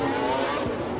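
Race car engine held at full revs during a Monaco street race in a racing video game, a loud continuous high-pitched whine with a brief dip in pitch near the end.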